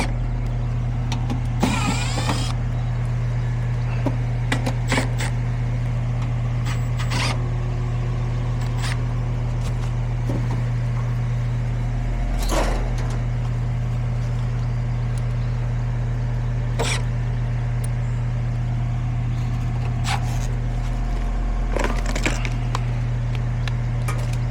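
A Goodman HVAC condenser runs with only its fan spinning and the compressor off, giving a steady low hum and whir throughout, broken by scattered clicks and knocks nearby.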